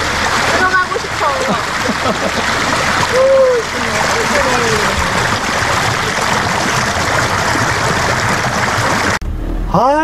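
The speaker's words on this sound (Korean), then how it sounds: "좀 세수하고 물에 좀 씻었습니다. 와, 계곡물 좋네요." Mountain valley stream water splashing as someone washes their face outdoors, with a steady broadband rush of flowing water throughout, close and loud, while people talk over it.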